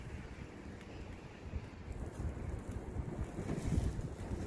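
Strong wind gusts roar and buffet the microphone outdoors at a rainy-day barbecue, a steady low rumble that swells louder toward the end, with no talking.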